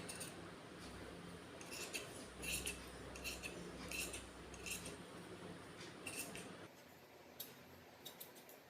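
Scissors snip through blouse fabric while the sleeves are cut, giving a steady series of light, close metallic clicks and crisp snips over a soft background hiss.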